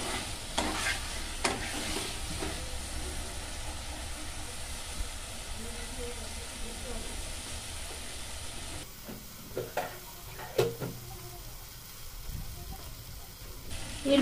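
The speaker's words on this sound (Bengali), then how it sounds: "এই কষাতে কষাতে দেখবেন এই মশলা থেকে তেলটা আস্তে আস্তে ছেড়ে এসছে।" Spice masala fries in oil for a pabda fish curry, a steady close sizzle and hiss under occasional scraping stirs of a spoon against the pan, with a brief shift in tone partway through.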